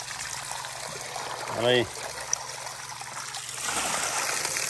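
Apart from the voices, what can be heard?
small water stream oxygenating a fish pond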